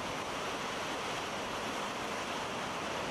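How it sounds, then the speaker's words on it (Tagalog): Storm surge waves driven by Super Typhoon Karding crash onshore at Dingalan, a dense, continuous roar of surf and wind that stays loud and steady throughout with no voices. "nagkaroon na ng storm surge o daluyong sa lugar"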